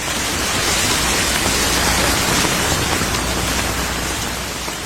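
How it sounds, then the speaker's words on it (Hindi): Heavy rain pours down steadily and loudly, a dense continuous hiss with no pauses and no voices. "अग्रसेन जी ने दिव्यास्त्रों के प्रयोग से वर्षा करवा दी"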